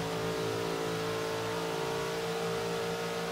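A Lamborghini Jalpa in Forza Horizon 3 pulls hard in fifth gear, its engine note holding a strong, steady rev that climbs only slowly, with nobody talking.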